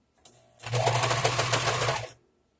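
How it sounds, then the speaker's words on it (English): A sewing machine stitches baby clothes in one close, steady burst of rapid needle clatter lasting about a second and a half, then stops, with no voices. "Sewing on top of the stitch."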